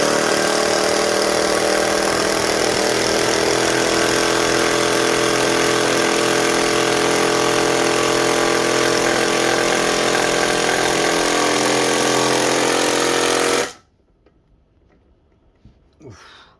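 A Ryobi One+ brushless HP impact driver runs in second gear, giving a loud, continuous hammering drone for about fourteen seconds. It then stops abruptly, leaving a quiet room with faint handling noises.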